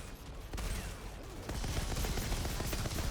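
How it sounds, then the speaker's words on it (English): Loud, dense gunfire from the video game Outriders, with a player's shotgun blasting repeatedly amid continuous combat noise and rapid shots that grow heavier after the first second. "Oh, the shotgun's so good. It just obliterates everyone."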